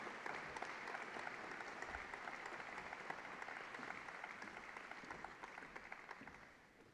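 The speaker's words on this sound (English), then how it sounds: "One more round of applause, please, for LP Larry Pearson." Sustained applause from a large audience at a Hall of Fame induction ceremony, steady and full, gradually fading toward the end.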